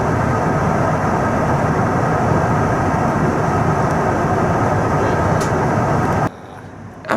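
Steady broadband engine drone and cabin roar inside a Japan Airlines Airbus A350-900 in flight on a domestic route, loud and continuous for most of the clip before dropping abruptly to a quieter hum near the end.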